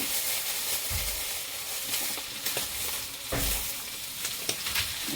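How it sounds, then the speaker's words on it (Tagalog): Ground meat is stirred into pansit bihon frying in a pan, making a close, steady sizzle broken by scraping stirs and a few soft knocks of the utensil, with no talking. "Tapos, dagdagan ko ito ng may kunting giniling pa ako. Ihalo na natin."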